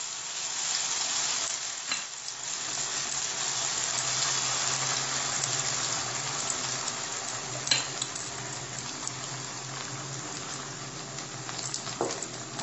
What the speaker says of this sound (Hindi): कढ़ाई गर्म हो गया है, थोड़ा सा इस पर सरसों डाल देंगे हम।